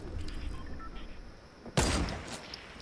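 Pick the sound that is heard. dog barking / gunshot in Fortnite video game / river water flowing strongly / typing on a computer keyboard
gunshot in Fortnite video game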